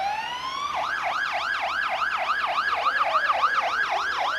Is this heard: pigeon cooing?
no